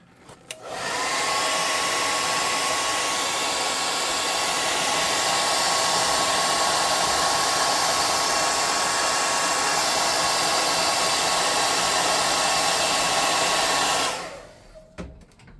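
A hair dryer blows steadily and loudly at close range over a freshly painted sculpted librarian figure, switching on, running evenly for about thirteen seconds, then cutting off.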